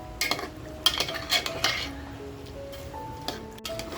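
Mutton sautéing in a pan over a full gas flame, with spoon clinks and scrapes against the pan over a low sizzle, several sharp metallic knocks early on, then quieter stirring.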